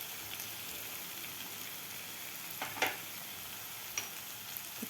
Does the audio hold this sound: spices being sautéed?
yes